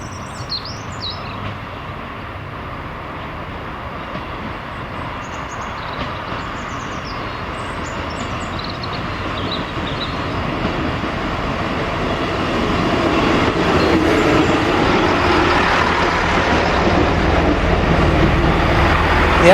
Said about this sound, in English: Shortly after leaving Belper, the train leaves the Midland Main Line at Ambergate.